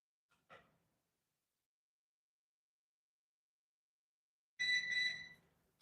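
An oven is switched on to preheat, giving a short faint electronic chirp, then after a long silence a louder, sustained tonal beep lasting about a second.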